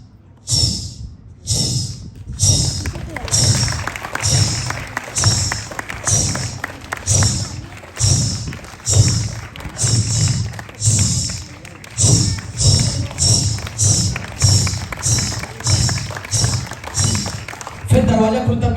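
A comedian on stage imitates the jingle of ghungroo ankle bells with his voice, a long rhythmic string of breathy chh-like bursts over low thumping beats, loud and close.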